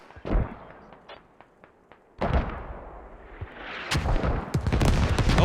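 Mortar rounds and explosions in the tactical shooter game Squad boom one after another, a close sharp blast followed by quieter distant thuds, then a heavy rolling barrage that swells and stays loud to the end.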